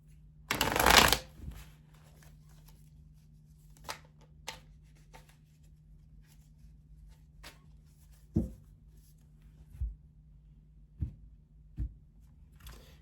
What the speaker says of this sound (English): let's shuffle the tarot and then we'll get it started